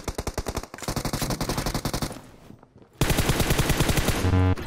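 Rapid automatic gunfire from the video game PUBG Mobile, loud close bursts of evenly spaced shots, a brief lull with a fainter distant burst, then another sustained volley; no talking.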